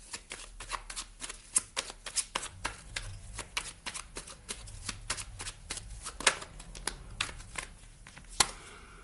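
Tarot cards being shuffled by hand for a reading, a run of crisp riffling snaps and slaps in an uneven rhythm, close and clear, with no speech over them.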